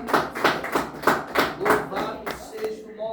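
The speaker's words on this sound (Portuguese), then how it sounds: "Então bate mais palmas para Jesus" A church congregation claps for Jesus in a steady rhythm, about eight loud group bursts evenly spaced, fading out as the applause ends.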